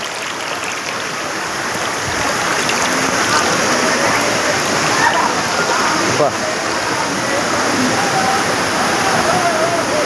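Steady broadband rush of falling water, loud and continuous, from the Dharapally waterfall, with faint voices occasionally audible beneath the roar.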